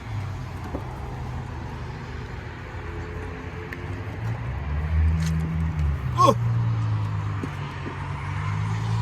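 A 2006 Acura RSX engine idles with a low steady hum that swells partway through, while a person exclaims briefly nearby.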